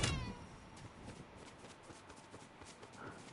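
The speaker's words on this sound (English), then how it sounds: "I want to know why I keep hearing a cat." A cat meows at an outdoor mixer, a bright tonal cry right at the start, then only faint background chatter and footsteps through the rest.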